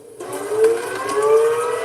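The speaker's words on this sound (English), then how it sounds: "Tonight, tornado sirens warning families to take cover" A tornado warning siren wails loud and steady, its tone slowly rising and falling, with no other sounds over it.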